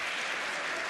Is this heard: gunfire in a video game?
no